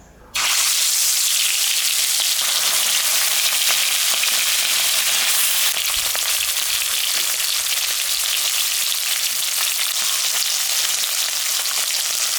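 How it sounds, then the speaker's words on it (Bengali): Rohu fish sizzles steadily in hot oil, a loud, dense, continuous frying hiss that starts abruptly and holds evenly throughout, with no voices. "তেল গরম হয়ে গেছে, আমি এখন মাছটা ভাজবো"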